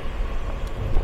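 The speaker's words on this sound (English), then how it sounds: "Sorry about the noise, the air ambulance has just landed across the road." An air ambulance helicopter on the ground across the road from Hollybrook Cemetery gives off a steady, loud low rumble with a faint airy hiss throughout.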